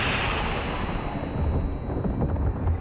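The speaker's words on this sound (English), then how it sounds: "Flash grenade." A flash grenade goes off in the Resident Evil 4 Remake game, a loud booming burst that fills the whole moment with a thick roar and a thin high ringing tone held above it, with no talking.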